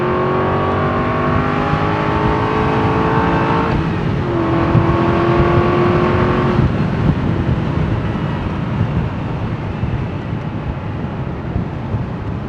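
An Aston Martin V8 Vantage Volante convertible engine growls steadily while driving, rising in pitch through a gear then settling into a deep, continuous drone with road and wind noise.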